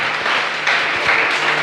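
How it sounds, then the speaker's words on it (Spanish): Church congregation applauding continuously, a dense steady wash of clapping that holds level throughout with a slight swell midway. "Denle un fuerte aplauso al Señor."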